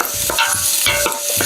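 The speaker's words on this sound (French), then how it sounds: "je rajoute les oignons que je fais revenir" Onions frying in a pan, with a steady broadband sizzle under repeated scraping and stirring strokes, close and fairly loud throughout.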